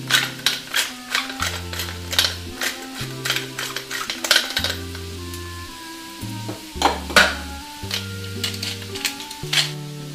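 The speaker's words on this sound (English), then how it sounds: "While we're sauteing our onions, we can add the salt and the pepper." Onions sautéing in a pan for Flemish stew give a soft sizzle, with a utensil clattering against the pan in sharp, irregular strikes under steady background music.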